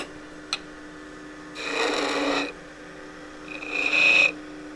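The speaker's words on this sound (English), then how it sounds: "Just do a little peeling cut." A skew chisel taking a small peeling cut on a wood lathe gives two short rasping, shaving bursts with a steady running hum beneath, the second brighter with a sharp whine.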